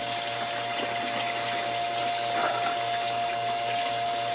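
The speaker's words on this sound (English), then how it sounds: "this plate that is diffusing the water down and putting it into all of these bio balls" Water trickles steadily through an aquarium filter onto a diffuser plate and bio balls, a soft continuous splashing with a low pump hum underneath, close and even for the whole stretch.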